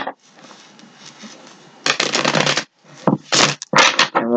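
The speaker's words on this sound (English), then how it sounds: "Give it a shuffle or two." Tarot cards being shuffled by hand: a soft riffling patter, then several louder, brisk bursts of card shuffling in quick succession, close and clear with no talking.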